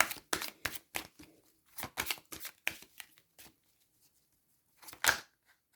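Oracle cards are handled and shuffled during a tarot-style reading, producing close, papery riffling and slapping bursts in short irregular clusters, then a pause before a final louder flurry.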